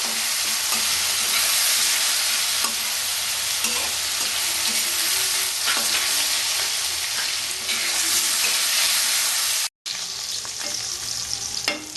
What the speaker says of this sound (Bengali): জিরাটা হয়ে গেলে আলু দেবো ভাজবো